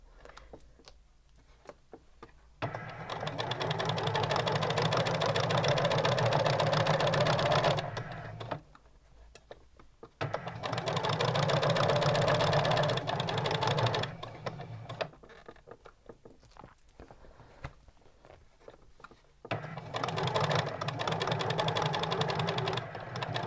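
Sewing machine stitching fabric bunting, running in three long bursts of steady mechanical whirring and rapid needle clatter, separated by brief quiet pauses.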